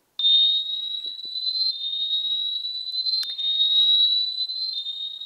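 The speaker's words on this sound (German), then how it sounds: "Diese Alarmboxen sind ganz schön laut, die können zusätzlich zum Schloss am Fahrradrahmen befestigt werden." A bicycle alarm box siren, the kind attached to a bike frame alongside the lock, shrieks in a loud, piercing, steady high tone for about five seconds.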